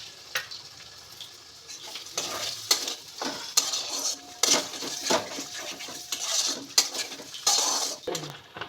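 Spices stir-fry in oil for a yogurt cauliflower curry, a close sizzle with repeated scraping and clinking of a spoon against the pan in an uneven rhythm.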